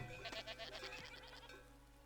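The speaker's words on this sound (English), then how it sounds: "Hey, look at the goats." Goats in the colony-building video game Farthest Frontier bleat in a quick wavering run of nasal calls, fairly clear over a steady game music and ambience bed.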